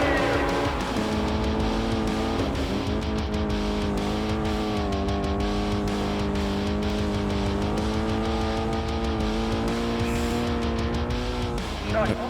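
Race cars roaring in the Test Drive: Eve of Destruction racing game, engines droning and shifting in pitch as they accelerate, with squealing tires, loud and continuous while someone talks over it.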